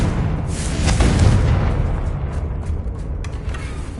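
A Confringo blast spell in Hogwarts Legacy on PS5 lands as a loud, deep booming burst that rumbles and fades over a few seconds, with no voices.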